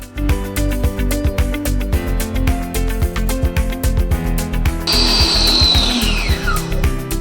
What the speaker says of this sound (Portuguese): Nós vamos bater a manteiga com o açúcar por cerca de uns 5 minutos